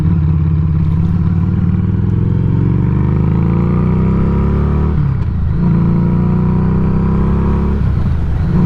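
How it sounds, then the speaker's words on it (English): A Harley-Davidson Street 500 with its Revolution engine is ridden on the road, its loud, close exhaust drone climbing steadily in pitch, dipping briefly around two gear changes, then pulling again. "this Revolution motor and this 500, man, this thing hauls"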